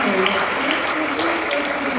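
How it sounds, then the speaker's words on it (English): An audience at a housing awards ceremony applauds its host in a steady, dense wash of clapping that stays loud and even throughout, with a voice faintly mixed in. "Can we give a round of applause for John, actually, for being our host again?"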